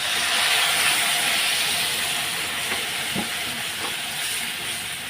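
Water poured into a pan of frying potatoes sets off a loud, steady steam hiss that gradually eases over several seconds, with no talk.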